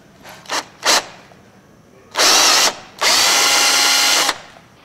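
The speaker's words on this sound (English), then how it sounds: "Now we can switch to the 3/16 bit and drill through." A power drill with a 3/16 bit whines in two quick short bursts, then runs in two longer, loud sustained stretches boring through metal, close up, with brief pauses between.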